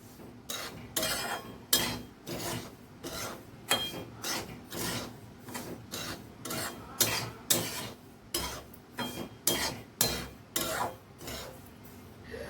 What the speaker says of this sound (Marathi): असा खमंग रवा रवा भाजल्याचा वास सुटेल तोपर्यंत हा रवा भाजायचा